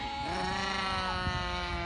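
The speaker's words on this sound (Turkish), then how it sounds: "Kuzuların keyfi yerinde." Lambs bleat in a steady, overlapping chorus on an island pasture, close by and fairly loud, with no talking.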